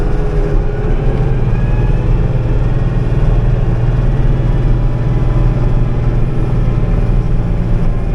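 Komatsu WA180 wheel loader running and moving, a steady, loud diesel engine drone with a deep low rumble that holds constant throughout, no voices over it.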